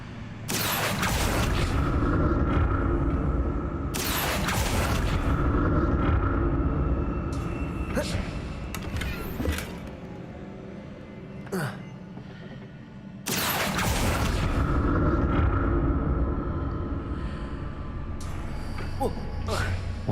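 Magic spell bursts in the Hogwarts Legacy video game, loud booming whooshes that swell and cut off repeatedly over a rumbling game soundtrack.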